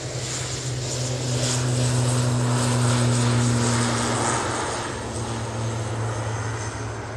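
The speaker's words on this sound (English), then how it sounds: "Icelandair's just arrived." Icelandair airliner arriving and rolling out at Manchester Airport, a steady broad engine roar with a low droning tone, swelling slightly mid-way and holding loud throughout with no talking.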